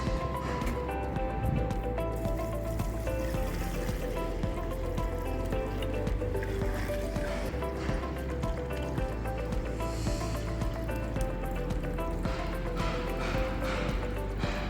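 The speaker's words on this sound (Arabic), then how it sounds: "هنجرب بقى خلاص دلوقتي نحط ميه ان شاء الله" Water is poured steadily onto a cement waterproofing coating laid like a basin, giving a continuous splashing trickle over background noise.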